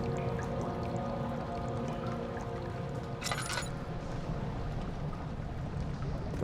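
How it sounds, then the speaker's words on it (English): Steady flowing water in the horror game Amnesia: The Dark Descent, a continuous rushing, trickling wash that holds level throughout with a brief brighter splash partway, no voices over it. "The water seems to be gone, but I still hear it."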